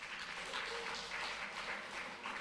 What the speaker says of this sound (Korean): 여러분 박수로 환영하겠습니다.